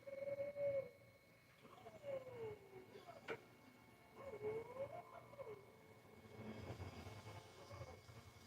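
Pigeons cooing in soft, repeated rising-and-falling calls, several coos spread across the stretch, with a faint steady hum and a few ticking clicks in the background.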